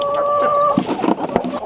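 Hens in an evening coop let out a brief shrill squawk, followed by a burst of close, uneven clucking that tails off quietly.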